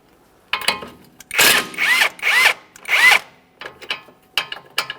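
Power tool with a 17mm socket loosening the front strut nut on a 2015-2019 Subaru Outback, heard as about four short, loud whirring bursts followed by fainter clicks and taps.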